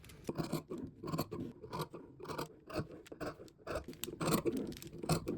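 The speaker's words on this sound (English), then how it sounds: "I'm going to take my pattern piece and cut it out." Scissors cut out a fabric pattern piece for skate covers, a quiet, close run of rapid snipping and rustling blade strokes in an uneven rhythm.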